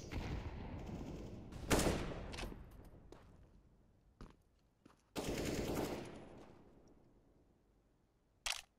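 Bursts of AK-47 rifle fire in a CS:GO match, a loud sharp volley near the start, a single crack midway, a longer sustained burst, then one last short shot, separated by quieter stretches.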